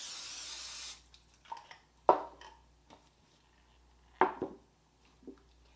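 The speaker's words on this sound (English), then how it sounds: "Spraying my pan" Cooking spray hisses onto a pan for about a second in one close, steady burst, followed by quiet kitchen clatter and a couple of sharp knocks.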